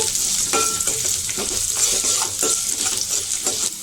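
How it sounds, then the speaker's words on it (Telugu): Curry leaves and garlic sautéing in oil in a pan for drumstick-leaf sesame-flour curry, a steady sizzle broken by scraping stirs of a spoon against the pan, with no voices. "కొంచెం కరివేపాకు, వెల్లుల్లిపాయలు కొంచెం మగ్గాలండి."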